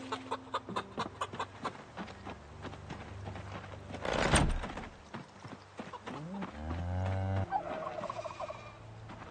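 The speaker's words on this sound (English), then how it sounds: "Of all the animal noises that I have to deal with when I'm standing near the north end of my base, I can deal with most of them. Turkey noises are..." Farmyard turkeys in Project Zomboid gobble over and over in quick, rattling bursts, several birds overlapping at close range with no one speaking.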